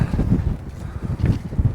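Gusty wind buffets the microphone on a cloudy, windy hike, a low rumbling roar that swells and dips in uneven surges throughout.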